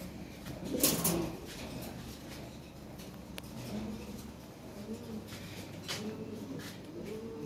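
Pigeons coo in a loft of fancy Lahore pigeons kept for sale, with soft murmuring coos repeating under a steady background hum, plus a louder fluttering burst near the start.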